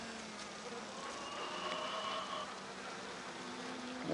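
Faint, thin buzzing of a few bees in a dying hive, a low steady drone with wavering tones over quiet background noise.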